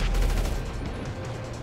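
A quick burst of gunfire in GTA V Online, loud at first and fading over a second and a half, with no talking.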